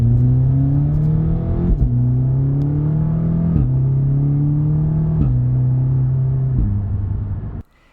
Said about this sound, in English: watch how fast this car accelerates